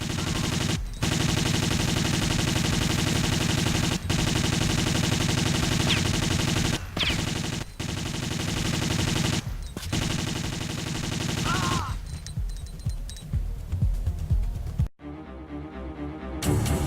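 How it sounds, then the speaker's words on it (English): Dense, continuous video game gunfire from guards shooting in a Tomb Raider custom level, loud sustained bursts broken by brief gaps, thinning out and fading near the end. "We got guards shooting at us"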